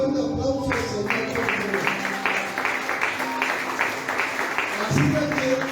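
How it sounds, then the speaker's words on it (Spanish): A church congregation claps together in a steady rhythm during a Spanish-language worship service, the repeated hand claps sounding fairly close over sustained musical tones and a low murmur of voices. "Y dale un fuerte aplauso al Señor"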